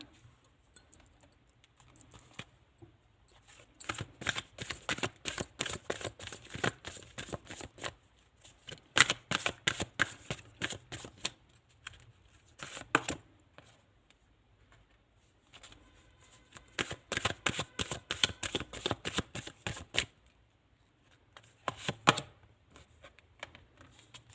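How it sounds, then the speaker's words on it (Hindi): A deck of tarot cards being shuffled in several bursts of dense, rapid riffling and flicking, separated by short pauses, close and moderately loud with no talking. "ओके, कुछ कार्ड और लेते हैं आप लोगों के लिए।"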